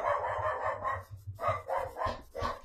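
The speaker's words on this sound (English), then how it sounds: "you can just hear my dog with something getting delivered" A pet dog barks repeatedly in quick, rhythmic bursts indoors, reacting to a delivery, moderately loud and close, with no talk over it.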